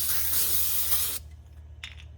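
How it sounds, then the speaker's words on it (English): A long, loud spray of brake cleaner from an aerosol can onto a 2022 Jeep Wagoneer rear brake hisses for about a second, then stops, followed by a short faint burst. "Spray this thing down a little bit"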